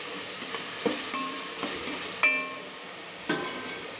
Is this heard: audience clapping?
no